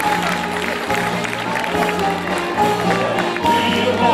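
An audience gives steady applause, mixed with crowd noise and a voice speaking over it, with a low background hum and no clear break in the clapping.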